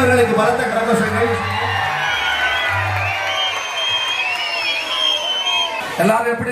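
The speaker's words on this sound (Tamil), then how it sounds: "அண்ணனவர்களுக்கு பலத்த கரகோஷங்கள்." A crowd cheers, whoops and applauds as a guest comes onto a stage, a sustained wash of shouts and clapping with a voice over it at first.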